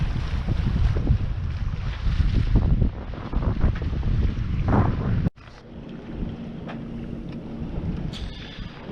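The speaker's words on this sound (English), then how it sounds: "Now we are finally sailing in here in Hudiksvall archipelago" A sailboat runs under a good wind through the Hudiksvall archipelago, with loud, steady wind buffeting and rushing water that drops abruptly to a quieter hull-and-water wash about halfway through, without talk.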